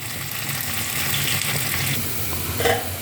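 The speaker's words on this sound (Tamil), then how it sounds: "இது வந்து கொஞ்சம் எண்ணெய் ஜாஸ்தி இல்லாமல் நல்லா ரோஸ்ட் பண்ணுறது" Taro root roasting in a little oil in a pan, a steady close sizzle with faint stirring scrapes and a brief louder clatter near the end.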